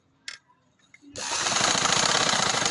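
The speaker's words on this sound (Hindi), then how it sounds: "इस तरह बैंड रखते हुए आपने किनारे किनारे पे सिलाई लगा ली है" A sewing machine runs in a fast, steady rattle as it stitches a band along a fabric edge for an open shirt slit. Before it starts there are a few soft handling clicks.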